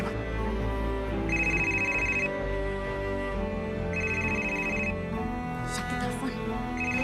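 A telephone rings in an Indonesian TV drama, two bright trilling bursts about three seconds apart over a steady background of music and room noise.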